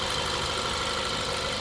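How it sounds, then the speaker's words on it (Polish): A 2008 Škoda Octavia with a 1.8 TSI 160 hp petrol engine idles smoothly, a steady broadband hum with the light ticking of the fuel injectors running evenly throughout. "tylko słychać wtryski, nic nie rzuca tym silnikiem"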